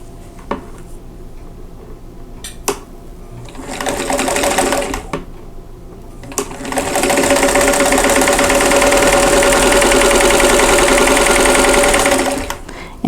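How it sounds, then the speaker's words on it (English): A sewing machine chain-pieces quilt squares for a folded star block, starting with a few short whirring bursts and clicks, then settling into a long, loud, steady run before stopping. "I'm going to sew 1/4 inch away from both sides of that drawn line"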